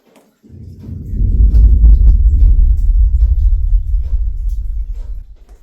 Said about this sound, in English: we blasted our first waste shot for the stope